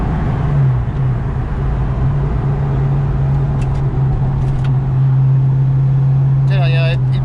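A 14-speed car with 410 horsepower pulls hard on its first drive, its engine droning loud and steady inside the cabin, with a short squeal near the end.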